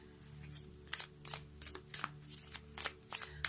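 Oracle cards from the La Lunologie deck being shuffled by hand, a run of crisp riffling bursts at a steady rhythm over a faint low hum, close and fairly quiet, with no talking.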